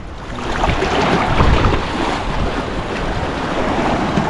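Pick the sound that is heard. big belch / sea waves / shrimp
sea waves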